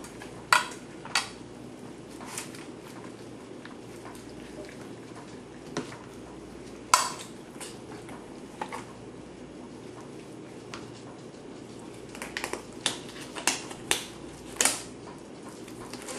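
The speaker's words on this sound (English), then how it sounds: "Getting my bracelet" A bracelet clinks against a pan while chicken is marinated with plenty of garlic: sharp, scattered metallic taps at an irregular rhythm, close and fairly faint, with clusters of quick clicks near the end.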